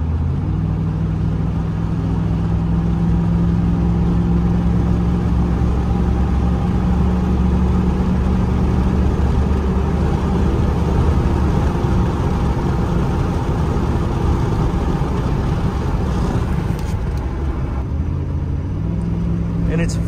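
Second-generation Dodge truck engine pulling from about 50, a continuous loud low rumble and drone from inside the cab, with a voice talking over it and a slight shift in tone near the end.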